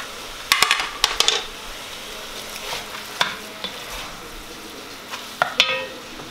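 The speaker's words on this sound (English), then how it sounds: "I'm gonna let this cook for just a minute with the garlic" Garlic cooking with sausage in a pan for meat lasagna, with a steady low sizzle broken by several sharp utensil scrapes and taps against the pan, close by, with no voices.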